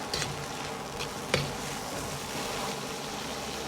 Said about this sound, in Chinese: 再倒入控干水分的豆角，翻炒均匀